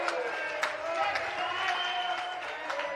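Crowd applause at a lawn bowls match, a steady wash of clapping that runs throughout with a commentator talking over it.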